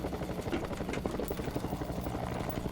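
Small plane engine droning and pulsing on an airstrip, a steady rough propeller rumble heard up close without talk.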